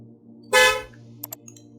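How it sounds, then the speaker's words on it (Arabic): Car horn sound effect from a Filmora sound library: one short loud honk followed by two faint quick toots, alone against a low background hum. "هنا الكار ساوندز، صوت العربيات"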